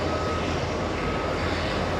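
An American Airlines Boeing 777 jet airliner at JFK gives off a continuous engine roar with a faint steady whine, held at an even, fairly distant level with no speech over it.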